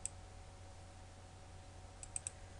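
Sharp computer mouse clicks while working in Flash animation software: one at the start, then a quick cluster of three near the end, faint and close over a steady low hum.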